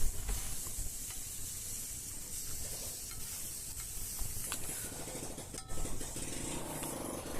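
Tomatoes cooking in a pan for tomato dosa give off a steady, close sizzle and hiss that holds through the whole stretch, with a few brief clicks and stirring scrapes and no one talking.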